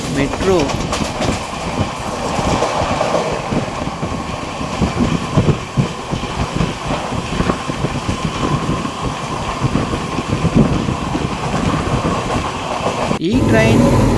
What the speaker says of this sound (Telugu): ఈ ట్రైన్ వ్యాప్ 7 లాలాగూడతో వెళుతున్న తిరువనంతపురం సికింద్రాబాద్ సబరి ఎక్స్ప్రెస్